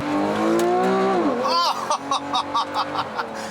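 A 2015 Porsche 911 Carrera S engine revs hard with a rising whine, drops briefly as it shifts gear, then carries on with a throaty, pulsing drone up close.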